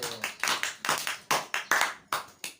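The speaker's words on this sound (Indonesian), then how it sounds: "Oke, tepuk tangan dulu." A group claps together at a school student gathering, the rhythmic hand claps coming in bursts of a few beats each, fairly close and lively, with no talking over them.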